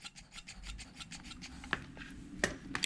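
A MightyVac hand vacuum pump is worked repeatedly while bleeding the brakes of a KTM 300 XC-W, giving a quick rhythmic series of rasping, squeaky strokes with a few sharper clicks, close and moderately quiet.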